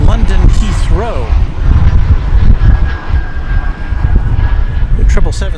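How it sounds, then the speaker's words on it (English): An American Airlines Boeing 777-300ER arriving from London Heathrow at DFW Airport gives a loud, rough jet engine rumble close by, wavering in strength throughout with occasional sharper bursts. "our second 777 of the afternoon. It'll be American Flight 79 from London Heathrow"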